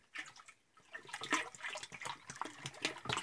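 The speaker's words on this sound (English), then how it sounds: "here's the water we're getting put inside the sand filter from the river" River water pours and splashes into a biosand filter tank through an automatic ball-valve setup, a steady close-up trickling and spattering flow with no voices.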